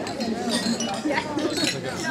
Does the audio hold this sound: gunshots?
no